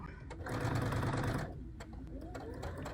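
A sewing machine stitches a fabric chicken pin cushion, whirring in a close, fast continuous run for about a second, then stopping for brief short stitches and quiet handling.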